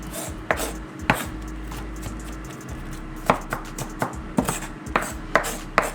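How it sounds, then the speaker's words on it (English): Rough chopping of vegetables for a homemade dressing dinner, a knife striking a cutting board in irregular, fairly close taps with a low steady hum beneath; no talking. "I'm gonna give us a rough chop too as well."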